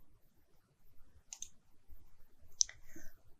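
Computer mouse clicks while working in RFEM 6 structural analysis software, two or three faint sharp clicks spaced apart over a quiet background.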